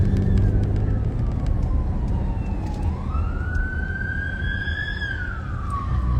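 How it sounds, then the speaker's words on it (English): A wailing siren rises and falls over steady city traffic rumble in Hollywood, fairly distant, sweeping up and down in long slow glides. "I hear sirens"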